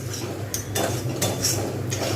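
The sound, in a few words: stirring coconut and sesame laddu mixture with jaggery in pan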